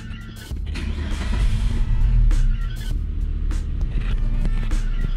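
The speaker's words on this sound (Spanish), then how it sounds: "Y procedemos a encender el vehículo" A Dongfeng S30 car engine starts up and settles into a steady, close idle, its low rumble continuous for several seconds with a few brief knocks over it.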